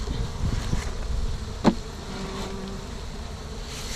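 Honeybees being moved into a hive during a colony relocation, a steady close, low buzzing drone throughout with a brief sharp knock partway through, and no talking.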